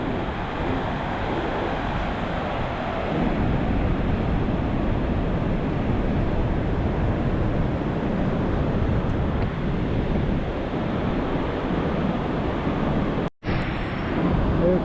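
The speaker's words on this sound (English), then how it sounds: "I can really feel the wind gusting all over the place" Strong wind gusting steadily at a coastal lookout in New Brunswick, a loud, continuous roar buffeting the microphone throughout with a brief dropout near the end.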